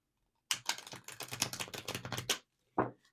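A deck of tarot cards is shuffled: a rapid burst of crisp riffling clicks for about two seconds, then a pause and one short final snap of cards, close and fairly quiet with no talking.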